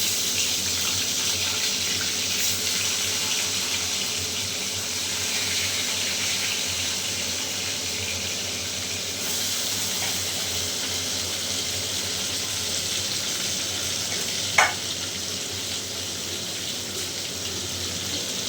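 Hilsa fish pieces going into a pan one by one give a steady, close, even hiss of sizzling that stays level throughout, with a single sharp tap near the end.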